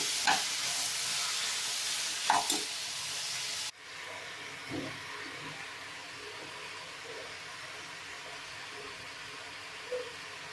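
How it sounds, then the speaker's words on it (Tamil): Vegetables with ginger garlic paste sizzling in a pan for a vegetable biryani, a steady hiss that is strong at first and then settles into a softer frying crackle with occasional stirring scrapes. "நல்லா வதக்கிட்டு"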